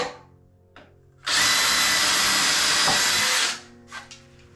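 A new DeWalt power drill bores into a wall while a bathroom mirror is being removed: a loud, steady whine runs for about two seconds alone, with quiet handling noises before and after.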